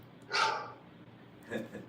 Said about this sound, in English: My phone's barking.